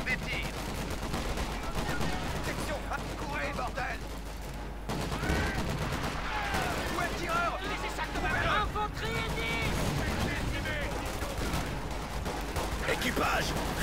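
Gunfire and machine-gun bursts from the World War II strategy game Company of Heroes 2, set in the Battle of the Bulge in the Ardennes, crackling continuously over about fourteen seconds with dense overlapping shots, radio-style voices and battle noise mixed in.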